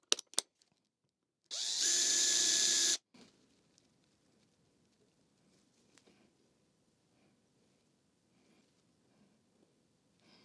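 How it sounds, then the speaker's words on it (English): A short, loud burst of a power drill with an 8mm bit boring a small recess into wood, lasting about a second and a half, followed by quiet handling noises. "I've got an 8mm drill bit. And I'm just going to create a small recess"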